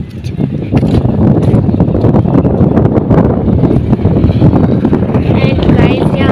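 Strong wind blows across a bridge over a nearly dry village river during a storm, a loud, unbroken rumble of gusts on the microphone from start to finish, with a voice faintly under it.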